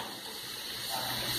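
Boiling water is poured into a cooking pot holding pork backbone and ears, making a brief, steady gushing splash at moderate volume.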